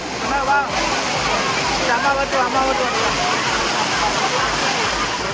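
Water pours steadily at Agasthiyar waterfall in Papanasam, a loud, constant rushing roar that fills the whole stretch, with faint crowd sounds of bathing tourists mixed in.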